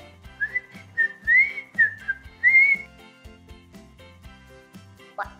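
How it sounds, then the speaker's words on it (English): Shrill whistle blown in a few short bursts and one longer warbling toot, sounding close and fairly loud over a low repeating thump in the background. "I had a whistle at my house."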